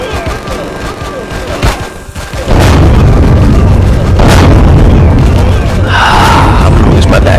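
An automated base turret in a video game opens fire after a brief quieter lead-in, producing loud, dense, continuous bursts of rapid gunshots that hold steady and close until the end.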